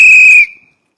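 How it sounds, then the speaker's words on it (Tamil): A single loud, shrill whistle blast held for under half a second, then cutting off abruptly with a brief fading tail, close and alone. "விசில் அடிக்குது"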